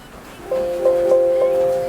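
A Bmax B2 Plus mini PC plays video audio through its built-in speaker: steady tonal music begins about halfway in, moderately loud with faint accents and a thin, boxy small-speaker quality. No talking.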